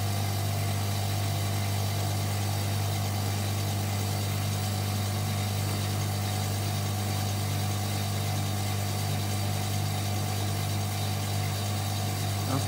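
A Hotpoint Supermatic De Luxe 9414W twin tub washing machine runs its spin cycle with only a few items loaded, giving a steady loud motor drone and low hum that stays unbroken and close throughout.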